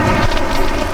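Heavy rain pours steadily with low rumbling thunder, a dense, loud wash of falling water filling the whole second with no voices.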